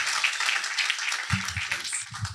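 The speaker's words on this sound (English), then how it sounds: "would you please give a loud round of applause for Allie Trutman" Audience applause at a fall demo day event, a steady wash of many hands clapping, moderately loud, with a voice breaking in over it partway through.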